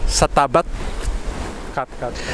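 Sea waves by the shore at Pontian wash in under strong wind buffeting the microphone, a broad rushing noise beneath a voice speaking in short bursts.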